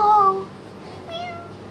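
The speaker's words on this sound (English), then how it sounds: "The cute cat. She looks so nervous" A nervous cat gives a clear, close meow at the start, followed by a softer, fainter second meow about a second later.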